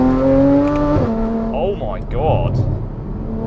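A loud Porsche Cayman, built as a budget GT3, revs hard as heard from inside the cabin with the windows up: a steady, droning engine note fills the car while a voice exclaims over it.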